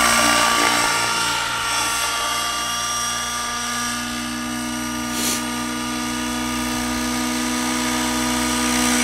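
A Hirobo Freya model helicopter whines steadily nearby on a test flight, its high-pitched motor and rotor buzz holding constant with slight shifts in pitch.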